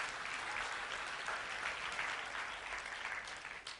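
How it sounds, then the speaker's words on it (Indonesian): Audience applause at an Islamic youth inspiration session, a short, dense, even patter of many hands heard from some distance, fairly faint and steady throughout. "tepuk tangan kawan-kawan sekalian"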